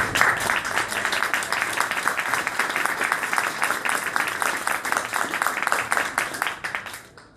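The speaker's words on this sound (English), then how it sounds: "I want us to applaud Donnie because it's really taken guts" An audience applauds at a cannabis advocacy gathering in Ohio, a moderate spell of clapping that holds steady for several seconds and then fades out at the end.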